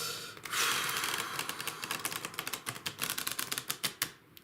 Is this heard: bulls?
no